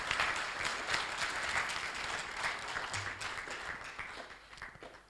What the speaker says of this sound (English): Please, a louder round of applause.